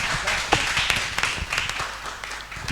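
An audience at a church service claps and cheers for a singer, with scattered overlapping claps and a few sharper individual hits across a steady bed of applause, at moderate distance.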